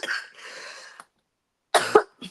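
A person who is sick coughs close to the microphone, a rough burst at the start followed by two or three sharp, harsh coughs after a short silence, with no talking.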